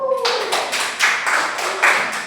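Children in a classroom clap their hands in a quick run of about eight distinct bursts, moderately close and fairly even in rhythm, with a brief voice at the start.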